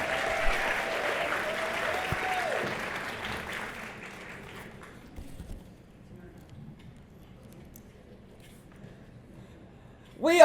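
Audience applause at a women's awards banquet fills the room, steady and moderately loud for several seconds before fading, with a brief loud burst at the end.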